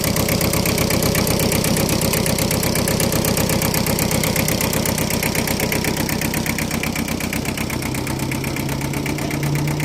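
A Japanese-built Kubota L1501 15-horsepower tractor idles close by, its diesel engine chugging in a fast, even, knocking rhythm that holds steady throughout with no talk.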